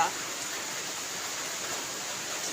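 Heavy rain pours down on a flooded village road, a dense, constant hiss without breaks that fills the whole stretch.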